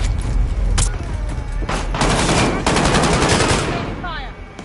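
Loud, dense gunfire in Call of Duty Warzone: sustained automatic bursts with sharp cracks and booms filling the whole stretch, with brief gaps between volleys.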